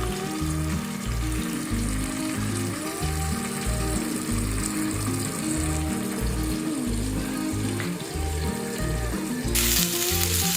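Fish fries in a pan on a medium flame, a steady, even sizzle with light spattering that runs continuously over a looping background music track.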